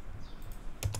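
Typing on a computer keyboard while entering DNS settings on a Windows 11 PC, heard as two sharp, close key clicks near the end after a quiet stretch of room hiss.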